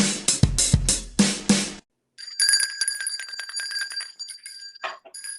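A bell dropped and left ringing at a table where people play a game; a few sharp clattering strikes, a brief silence, then a bright, sustained metallic ringing with shimmering overtones that flutters and slowly fades.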